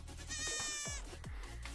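A goat sound effect gives one loud, close, wavering bleat, followed by a few sharp thuds, during a live baseball card break stream.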